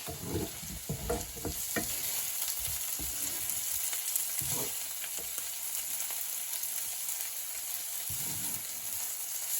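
Mushrooms and baby plum tomatoes fry in a pan of garlic butter, a steady loud sizzle with intermittent stirring scrapes and bursts of spitting, close up and with no voices.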